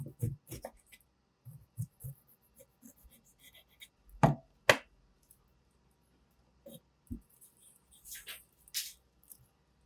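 A knife slicing the tough outer skin off a pineapple on a cutting board, heard as scattered soft cuts and scrapes with a couple of sharper, louder chops near the middle, close up and without talk.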